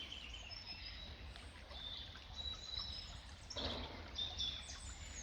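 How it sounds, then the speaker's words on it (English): Birdsong in a woodland glade beside a running stream, several chirps and whistles at mid distance over a steady low wash of flowing water, with faint farm machinery rumbling far off. "and in here you can hear all the birds"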